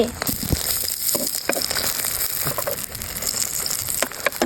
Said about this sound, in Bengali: তেল দিয়ে ডিমটাকে ভেজে নেবো